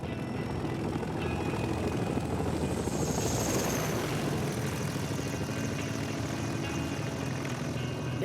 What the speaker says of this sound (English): Nicknamed the Flying Banana, this tandem rotor workhorse from the 1950s lifted troops and supplies at record speeds.